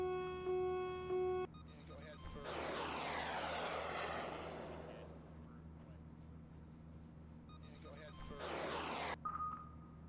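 A jet engine roars up on afterburner in Command: Modern Operations, a broad swelling rush that fades, then a second brief burst, amid beeping game tones and a low hum.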